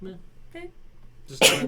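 One sharp, loud sneeze bursts out near the end, just after a few quiet spoken words from a person close by.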